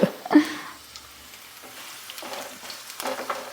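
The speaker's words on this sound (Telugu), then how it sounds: "ఇదిగోండి ఇవి దోరగా వేయించుకుందాము" Tempering ingredients fried golden in a pan over a low flame, with a soft, intermittent sizzle broken by brief stirring clatters, close and fairly quiet, with no talking.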